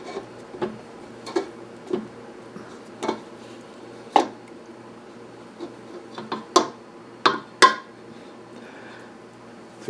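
A spatula scrapes cold molasses out of a cup, giving a series of short, sharp, uneven scrapes and taps against the cup over a quiet background.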